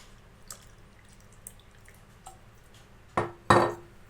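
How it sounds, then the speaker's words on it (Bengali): Water goes into a glass of mango panna: a few soft drips, then two short splashing pours close by near the end. "আর একটু জল মিশিয়ে দিই।"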